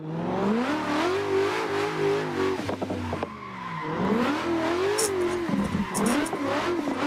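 A car engine in Assetto Corsa revs hard while drifting on the Daggerfall drift track, its pitch rising and falling with throttle blips and bouncing off the limiter, with tire squeal breaking through loud and close.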